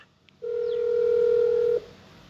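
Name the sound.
telephone number being dialed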